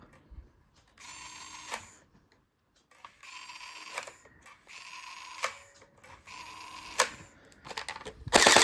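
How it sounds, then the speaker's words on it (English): A small electric feed motor in an ARP9 gel blaster whirs in four separate bursts of about a second each while gel balls are loaded, with brief pauses and clicks between bursts, close and moderately loud. "So the motor runs while we load."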